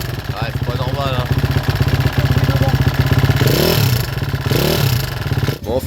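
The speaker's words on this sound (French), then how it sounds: "finalement la moto elle fait quand même un peu trop de bruit" A supermoto motorcycle engine runs steadily nearby at a race, its throttle rising and falling, with people talking over it.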